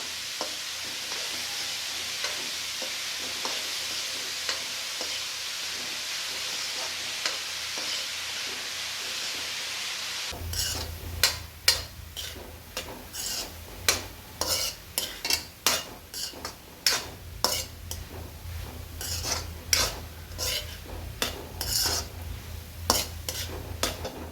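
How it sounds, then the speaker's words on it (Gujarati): Chopped carrots roast in a hot pan for carrot halwa: a soft steady sizzle at first, then a spoon scrapes and clatters against the metal in irregular, fairly close bursts. "ગાજરનો 5-10 મિનિટ જેવું આપણે શેકાવા દઈશું."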